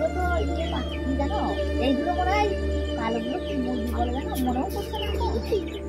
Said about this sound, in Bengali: নিচে আবার মুরগি আছে।